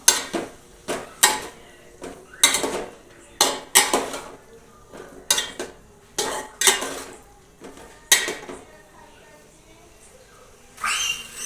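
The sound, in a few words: mixing ragda in a pot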